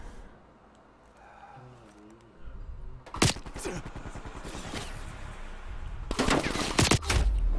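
Gunfire in Black Ops Cold War during a Domination match on Garrison, starting as a loud burst after a quieter lead-in, then bursts of rapid shots that keep returning near and loud to the end.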